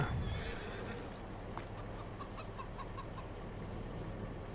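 Farm animals in the Farming Simulator 22 video game: chickens cluck in short repeated bursts while a horse neighs briefly at the start, all over a steady ambient bed.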